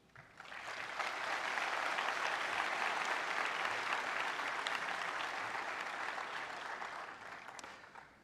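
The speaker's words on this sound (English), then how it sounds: "they deserve a big round of applause" Audience applause fills an opening ceremony hall at the start of a congress, a dense, steady wash of many clapping hands that swells in quickly, holds for several seconds and slowly tapers off.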